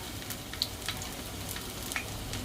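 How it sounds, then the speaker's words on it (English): Plantain slices fry in a pan of oil, giving a steady close sizzle with scattered crackles and pops. No one speaks. "Okay, so fry some plantain."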